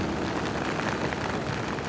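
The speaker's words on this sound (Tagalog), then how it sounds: "Ngayon umulan na naman, lakas oh." Heavy rain falls during a typhoon while a delivery rider travels, a dense, loud, unbroken hiss of drops on surfaces with no letup.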